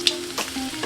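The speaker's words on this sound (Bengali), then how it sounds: "এবার দিয়ে দেবো আদা কুচিয়ে রাখা আদাগুলো।" Chopped ginger dropped into hot oil with whole spices (cloves, cinnamon, cardamom) and dried chilli for a Kerala-style chicken curry, giving a brief close burst of sizzling with a stirring scrape.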